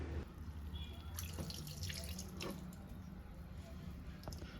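Soaked millet is rinsed in water at a sink, with faint splashing, trickling and occasional drips that are soft and close, and no voices.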